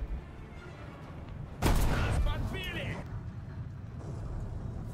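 Tank cannon fire from a T-55AM-1 battle in War Thunder: one heavy, close boom bursts out partway through, then a crackling decay and rumble, over steady engine noise with someone talking throughout.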